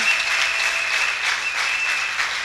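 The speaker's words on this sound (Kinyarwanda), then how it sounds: "Nahaguruka tugakomera Imana amashyi." A standing church congregation applauds in a dense, sustained wave of clapping that stays loud and even throughout.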